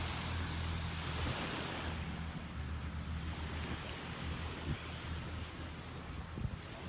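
Ocean surf washing onto a white sand beach on the Mexican coast near over-the-water bungalows, a steady broadband roar of waves with wind buffeting the microphone throughout, no voices present.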